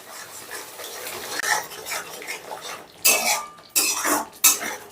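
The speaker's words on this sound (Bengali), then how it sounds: "তাই একটু ভালো করে কষে নিতে হবে" A spice paste for pointed gourd korma gravy is stirred and sautéed in a pan. A low sizzle sits under metal spatula scrapes and clinks, with a few sharp loud scrapes near the end.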